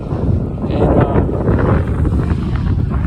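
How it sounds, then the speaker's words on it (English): Steady wind roars and buffets across the microphone while riding an ElliptiGO stand-up elliptical bike along a bike lane on La Rambla, a continuous close rumble with no clear talk. "it depends on the day, but the wind can be really bad"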